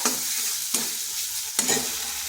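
Spice masala frying and being stirred in a pan for a bitter gourd (karela) curry: a steady, close sizzle broken by three sharp scraping stirs, roughly evenly spaced.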